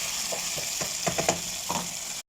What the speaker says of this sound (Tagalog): lagyan natin siya ng 2 cups na sabaw para maluto yung ating gulay